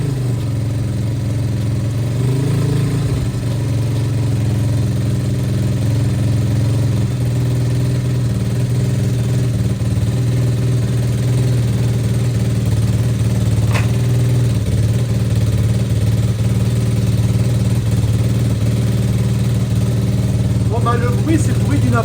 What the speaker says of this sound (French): C'est le bruit d'une Apollo quoi.